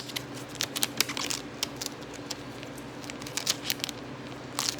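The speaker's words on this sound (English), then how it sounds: "let me cut this tape here. This is packaging tape." Packaging tape is pulled and cut beside a jug, with scattered close crackles, ticks and ripping bursts over a quiet room hiss, irregular and fairly faint.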